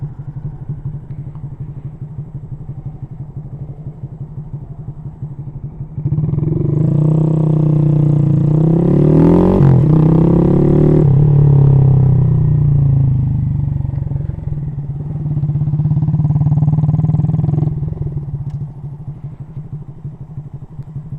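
A Honda Grom motorcycle engine drones close by, a steady low idle that swells into a louder revving roar in the middle before settling back to a lower idle.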